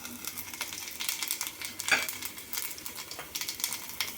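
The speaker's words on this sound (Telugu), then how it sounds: "మాడనేయకుండా తాలింపుని జాగ్రత్తగా వేసుకుందాం" Chana dal, garlic cloves, cumin and mustard seeds tempering in hot oil, sizzling and popping quietly as they are stirred, with a single sharp clink of a spoon or pan partway through.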